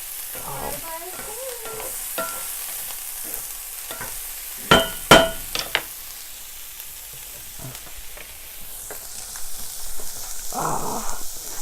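Food fries and is stirred in a pan, with a steady sizzle under a few sharp utensil clacks midway and a brief louder burst near the end.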